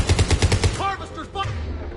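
Rapid automatic gunfire from the video game Mass Effect 3 rattles in a quick burst of about six shots, then gives way to a voice shouting during combat.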